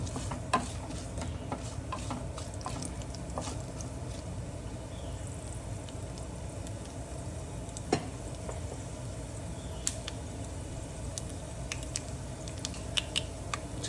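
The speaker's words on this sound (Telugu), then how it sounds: "జీడిపప్పు కూడా వేగాలి కదా." Cashews frying in hot tempering oil for South Indian curd rice give a steady, soft sizzle, broken by scattered light clicks and pops throughout.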